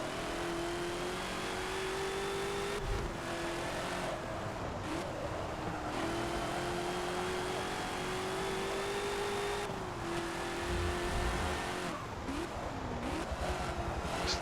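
A race car engine in Forza 7 climbs and drops through gear changes as it accelerates, a steady loud whine with brief dips at each shift and no talk.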